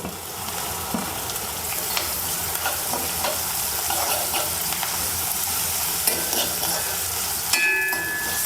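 Steady, loud sizzling of onion frying in hot oil fills the whole stretch, with occasional scrapes and taps of a utensil stirring the pan.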